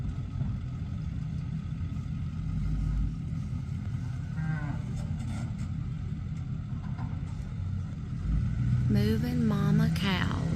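Mother cows being moved into a farm yard ahead of calving, with a few long lowing moos rising near the end over steady outdoor rumble and livestock shuffling.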